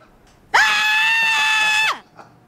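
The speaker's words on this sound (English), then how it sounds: "you joined guitar lessons just to scream" A cartoon woman from King of the Hill lets out one loud, sustained scream lasting about a second and a half, beginning abruptly and trailing off at the end, with no one talking over it.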